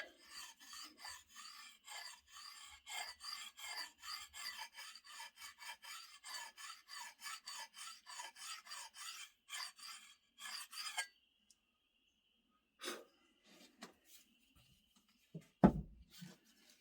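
Whetstone rubbed along the very edge of an axe in a Tennessee hardwood setting: a long run of quick, rhythmic rasping strokes, close and steady, then a pause with a few scattered knocks and handling sounds.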